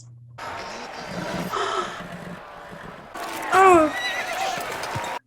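A horse neighs loudly in a dramatized TV show scene, a rising then falling whinny with hoof clatter and crowd noise around it, while a viewer makes a brief exclamation.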